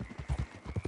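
Horse hooves clip-clop in the video game Red Dead Redemption II, a steady rhythmic trot of soft, fairly close thuds with no talking.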